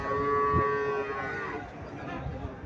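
A red native dairy cow at a traditional wholesale cattle market in Comilla lows once, loud and close, over a steady murmur of market crowd noise.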